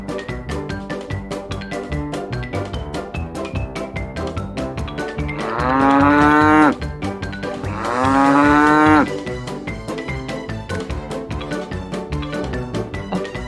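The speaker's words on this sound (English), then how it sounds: "A cow." A cow gives two long, loud, close moos, each rising and sustained for about a second, over a steady rhythmic music backing track.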